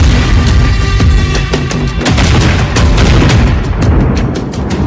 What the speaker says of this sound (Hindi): हाइपरसोनिक मिसाइल फट रही हैं